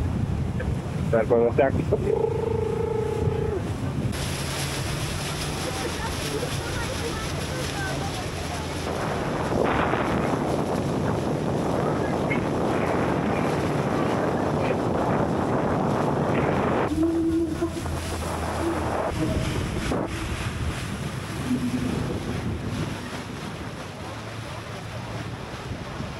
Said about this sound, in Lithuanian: Oi, kaip gerai tas vėjas